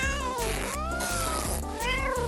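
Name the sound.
cat meowing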